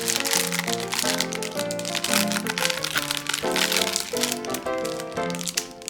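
A Pokémon card album package is opened, its plastic wrapping crinkling and crackling steadily and close by, with music playing underneath throughout.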